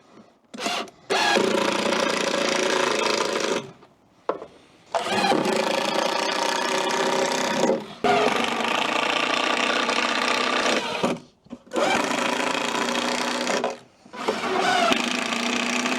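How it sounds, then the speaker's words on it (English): A powered driver sinks screws into a campervan kitchen cabinet. Four or five sustained, loud whirring bursts are separated by brief quiet pauses. "So all we'll do is put 2 screws in that side, 2 screws in that side"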